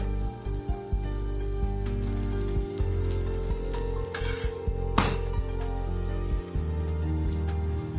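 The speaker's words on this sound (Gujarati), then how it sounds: "હું અહીં તેલ યુઝ કરું છું મીડિયમ તાપે સરસ ગુલાબી બ્રાઉન ડિઝાઇન પડે ત્યાં સુધી બંને બાજુ શેકો" Aloo paratha frying in oil on a pan over medium heat, giving a steady close sizzle with crackling pops and occasional scraping or stirring clatters, and no voices.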